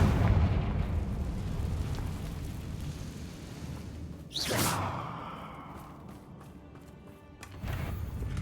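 A Confringo spell in Hogwarts Legacy fires with a sharp whoosh and bursts into a booming explosion midway, over a low rumbling ambience that fades afterward.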